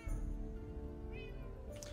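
Cats meowing in the video game Minecraft, a couple of drawn-out mews heard close over a soft background hum with no talking.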